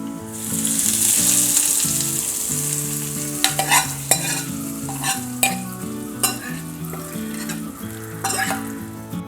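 Hot tempering hits a bowl of spinach pachadi with a loud, steady sizzle, followed by spoon scrapes and clinks against the vessel as the frying hiss continues close up.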